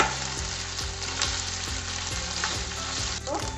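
Steady, busy sizzling of okra frying in a pan with ginger and garlic, with occasional scraping stirs and clicks, close and continuous throughout.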